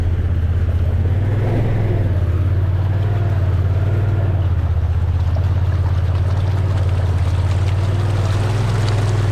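Off-road vehicle tires slosh and churn through a muddy spot on a power-line trail under a loud, steady engine drone, the low hum swelling and easing slightly; no talking.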